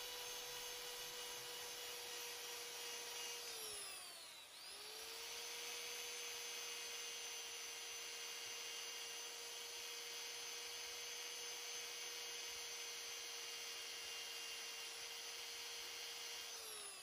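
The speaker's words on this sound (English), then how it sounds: "just hand sand it from here off the lathe" Power sander working a wood-turned piece removed from the lathe, a steady loud whine held for about seventeen seconds, briefly dipping and spinning back up midway, with no talk.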